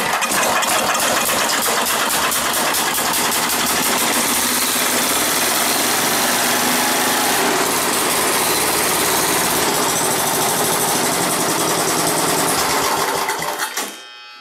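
Small Billy Goat blower engine running at a fast, steady idle, a loud, close, buzzing drone that holds evenly for about fourteen seconds before it is cut off abruptly, with no talk.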